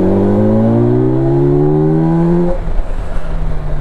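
A Kawasaki Versys 1100 large adventure motorcycle engine accelerates in a steady rising drone, its pitch climbing smoothly for a few seconds before easing off into a rougher rumble, loud and close with no talking.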